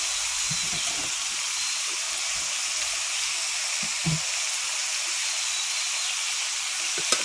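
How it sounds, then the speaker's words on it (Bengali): Water poured into a pan of browned mutton curry sends up a loud, continuous hiss of steam and sizzling oil, with faint clinks and scrapes underneath, steady throughout. "এখন আমি জল দিয়ে দেবো।"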